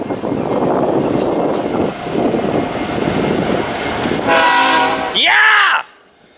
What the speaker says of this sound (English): There goes the freight train!